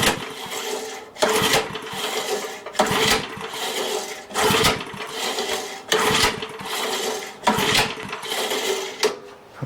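A Briggs and Stratton engine with no spark, choke off, being pull-started over and over: a series of sharp mechanical cranking bursts with short pauses between them. The engine never catches.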